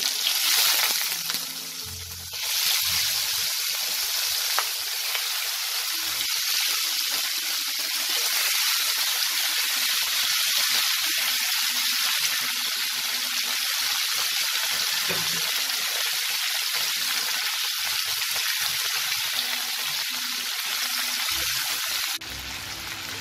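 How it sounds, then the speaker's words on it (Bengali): Prawns fry in hot mustard oil in a pan, giving a loud, continuous hissing sizzle that holds steady close up for over twenty seconds with no voices. "তেলটা গরম হয়ে গেছে, এবার আমি মাছগুলোকে ভেজে নেব।"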